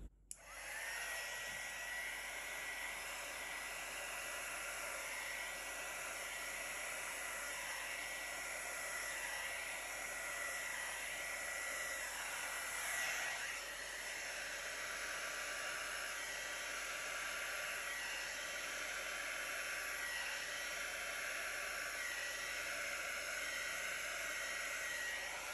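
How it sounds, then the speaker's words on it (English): A heat embossing tool blows air over poured acrylic paint mixed with Floetrol, giving a steady, close whooshing hiss like a hair dryer that runs unbroken for the whole stretch with no talking. "I'm almost inclined to just use my heat embossing tool because it does blow air"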